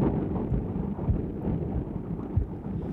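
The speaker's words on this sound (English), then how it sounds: "One of them is codec, that is just adding a bunch of straight up noise." A codec effect in a mix adds a dense, muffled bed of noise texture, a low rumbling hiss with occasional thumps, steady and fairly loud with no voices.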